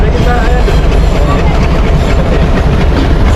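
Loud, steady rumble of a Sri Lankan train on the Kandy to Jaffna route rolling along rails, with a continuous roar and faint rhythmic clatter throughout.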